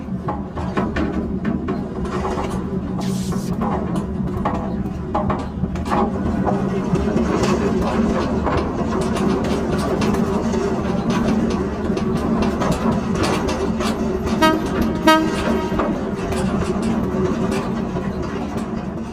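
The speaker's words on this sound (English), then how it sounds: "electric mine locomotives were nicknamed the electric mules by the coal miners" An electric mine locomotive rides underground in an anthracite coal mine, giving a continuous heavy rumble and rattle of wheels on rails with clanking throughout, loud and steady, with faint voices underneath.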